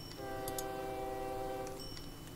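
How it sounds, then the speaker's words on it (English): Train horn sounding over a running train on a main line in the video game OpenTTD, a sustained harmonic horn tone over steady rail rumble, with brief bell-like pings near the start and end. "Train zipping up and down that main line."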